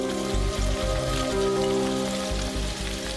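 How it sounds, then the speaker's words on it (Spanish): Freezing rain falling steadily during an ice storm, a dense even hiss of drops with low rumbling pulses underneath, continuous and fairly loud with no voices. "La lluvia helada ataca a sus víctimas sigilosamente."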